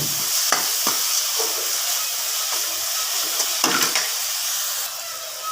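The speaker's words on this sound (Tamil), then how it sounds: "இப்போ பாலக்கீரையும் கொத்தமல்லியும் புதினாவும் ஆட் பண்ணிக்கலாம். இப்போ நல்லா ஆட் பண்ணி நல்லா வதக்கிட்டுக்கலாம்." Spinach, coriander leaves and mint sautéed with tomato in a pan give a steady close sizzle, broken by a few sharp scrapes of a spoon stirring, with no voices.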